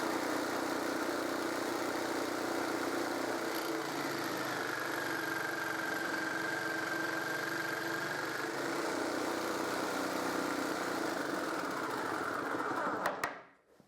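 A jigsaw cuts steadily through wood on a homemade jigsaw table, a constant buzzing whine that holds for several seconds and then stops abruptly at the end.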